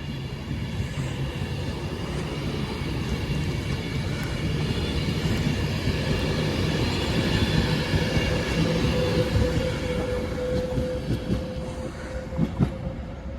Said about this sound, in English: as that service heads off to Manchester Piccadilly